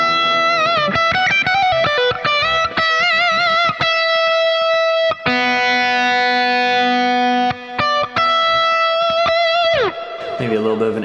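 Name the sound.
Donner DST-100T electric guitar through Neural DSP Archetype Pliny plugin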